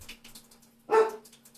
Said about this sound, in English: You'll have to ignore the dog in the background. She's excited because the garbage man is here.